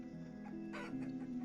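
A broody hen clucking in the video game Vintage Story, a steady, fairly quiet run of soft clucks with a few brighter calls rising over a constant hum of game ambience.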